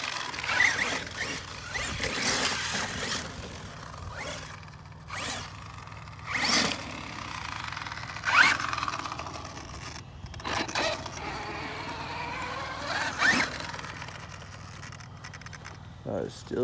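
An Arma Mojave 6s electric RC car, running on 4S batteries at a dirt bike track with its cooling fan going, gives repeated short bursts of motor whine and gravelly scraping, with rising and falling pitch sweeps over a constant background hiss.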